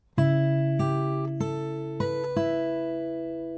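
Fingerpicked guitar notes of a song chorus ring out one after another in a slow, melodic pattern, each pluck sustaining into the next, played alone and close.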